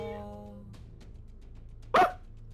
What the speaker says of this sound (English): Oh, that dog.